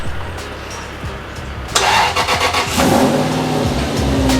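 An Aston Martin V8 Vantage engine with a flat battery cranks and catches, then roars to life and revs loudly up close before settling into a rough idle.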